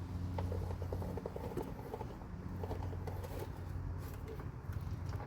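A hand ratchet clicks in quick bursts while loosening half-inch bolts on an MTD snowblower, close and fairly loud mechanical ticking with short pauses between strokes.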